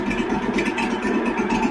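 An old engine that has sat unused for a long time idles just after a cold start, giving a steady, close, throbbing rumble with no talking.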